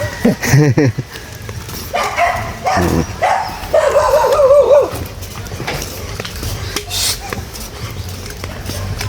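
Several close, loud dog barks and yips mixed with whimpering, with voices talking and shouting in between.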